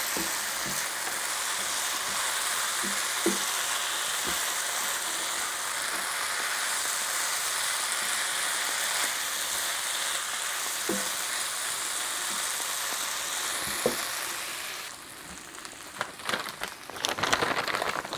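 A pan of nacho topping sizzles steadily for a long stretch with occasional soft scrapes, then the frying thins out and a run of louder clattering stirs and spoon knocks follows at the end.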